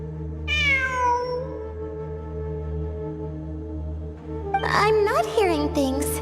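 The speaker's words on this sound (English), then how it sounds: "I'm not hearing things. It really is a cat." A cat meows twice in the Genshin Impact video game, a rising-falling mew early on and a longer, more insistent burst of meows near the end, heard over a steady low background hum.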